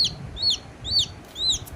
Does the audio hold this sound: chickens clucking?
yes